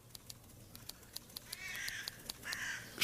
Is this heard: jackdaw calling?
yes